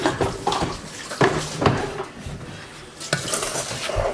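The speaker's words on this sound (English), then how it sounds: "I'm going to add 2 tablespoons of plain old all-purpose flour. And I'm going to give this a stir." Flour being stirred into a caramel mixture of sugar in a pan, heard as scraping, clinking utensil-on-pan strokes at close range, fairly steady with a few sharper knocks.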